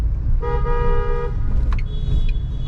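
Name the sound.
car horn honking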